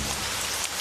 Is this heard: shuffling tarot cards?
no